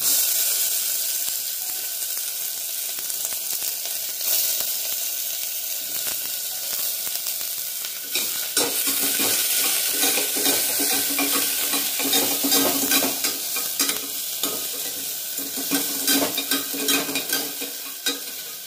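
Onions frying with whole spices in a hot pressure cooker for a Malvani mutton curry, a steady loud sizzle with bursts of stirring and scraping throughout, no talk.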